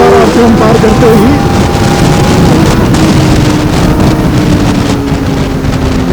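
Kawasaki ZX4RR motorcycle engine screaming at high revs past 8000 RPM while riding, a loud steady drone with rising tones buried in heavy wind rush.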